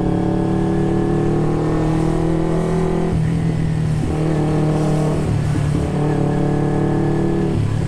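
A carbureted Kawasaki Ninja 250 motorcycle engine revs loudly and close, a droning twin-cylinder hum that rises and falls in several repeated throttle blips.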